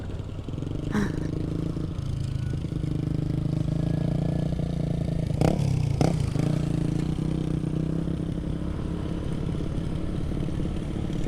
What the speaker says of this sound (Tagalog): Bigat ng motor natin.